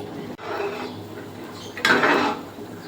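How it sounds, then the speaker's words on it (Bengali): Washed bean seeds tip into a pot of hot salted water for a fish-head bean dal, giving a soft pouring splash and rustle after quieter kitchen handling, with no talk. "জল গরম হয়ে গেছে, এবার ধুয়ে পরিষ্কার করে রাখা দানাগুলো দিয়ে দেবো।"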